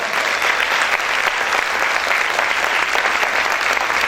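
A church congregation bursts into loud, sustained applause during a Spanish-language worship service, a dense, steady roar of many hands clapping close by with no pauses and no clear talk.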